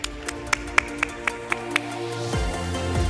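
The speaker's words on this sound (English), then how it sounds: "So please do give Jan van der Bremen a warm round of applause." Sparse, evenly spaced claps at the DeepFest 2025 main stage tech conference, about seven distinct claps before they stop and a low voice and hum take over.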